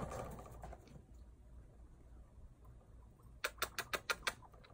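Guinea pigs rustling and scampering in a cage, with a quick run of six sharp, evenly spaced clicks or patters near the end, fairly close and otherwise quiet with no talking.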